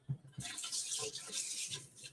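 Tap water running into a sink while a thawed turkey is rinsed for brining, a steady hissing splash that swells and dips across the short stretch with no talk over it.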